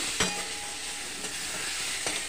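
Potatoes and spices frying in a pan give a steady, close sizzling hiss, with a few sharp stirring scrapes breaking through. No voices are heard.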